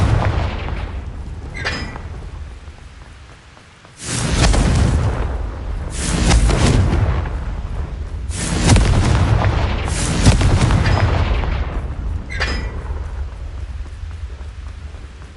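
Confringo blasting spells from the Hogwarts Legacy video game burst in a series of loud, rumbling booms, about four heavy blasts in close succession after quieter crackling, with no talking.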